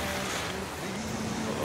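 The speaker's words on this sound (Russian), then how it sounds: "И понесла тебя бурная река" Rushing river water carries a boat in the video game The Flame in the Flood, a steady, broad wash of flowing water and wind-like noise heard alone for a brief moment.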